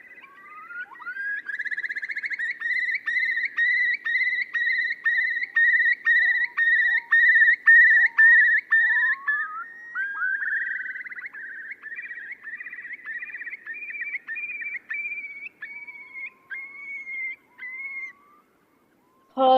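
A curlew calls in a long rising-then-bubbling series of rapid whistled notes, clear and fairly close against a quiet background, trailing off into a few slurred calls near the end.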